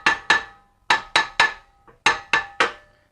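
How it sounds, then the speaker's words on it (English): Eight sharp metallic hammer taps ring out in irregular pairs and triples against a rusted rear brake rotor on an E53 BMW X5, close and loud with short decays, plus a faint thud in between. "give it a couple of taps"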